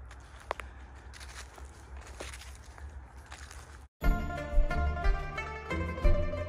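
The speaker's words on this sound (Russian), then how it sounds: "Это вот просто наши шаги и тишина." Footsteps crunch along a path in the Shchuchinsk dendropark amid near silence, a few soft irregular steps for about four seconds before music abruptly takes over.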